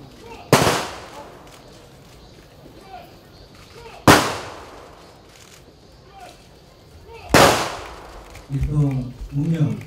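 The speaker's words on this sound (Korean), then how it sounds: "의장대 조총 발사" An honor guard fires three sharp rifle volleys at a memorial ceremony, each crack loud and evenly spaced several seconds apart with a brief echoing tail, and voices follow the last shot.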